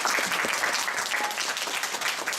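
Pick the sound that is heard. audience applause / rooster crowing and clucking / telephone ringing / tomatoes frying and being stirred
audience applause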